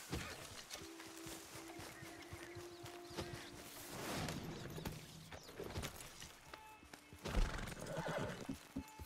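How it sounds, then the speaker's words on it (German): A horse in the Red Dead Redemption 2 video game, whistled over by the player, neighs loudly and whinnies, with hooves clip-clopping as it trots close in the foreground. "Und mal das Pferdchen ranpfeifen."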